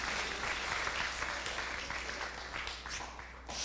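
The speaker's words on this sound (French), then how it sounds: "Come on applaudit Dieu." A church congregation claps together in thanks, a dense, steady wash of applause from many hands that holds at full strength throughout, briefly swelling again near the end.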